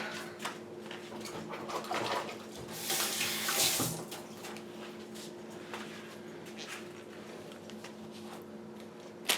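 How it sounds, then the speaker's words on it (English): Hands being washed under a running kitchen tap while preparing a smoked turkey: a steady, fairly faint stream of water with splashing that swells for a moment in the middle, close by and without talk. "All right, I'm gonna wash my hands real quick."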